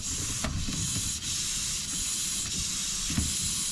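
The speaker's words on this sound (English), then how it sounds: "Immediately I can hear a leak, and poking around it becomes pretty clear where it's coming from by wiggling this vacuum hose." A boost leak from a small hole in a vacuum hose to the fuel regulator on a turbocharged Ford Falcon Barra engine makes a steady, faint hiss with soft rubbing and handling noises.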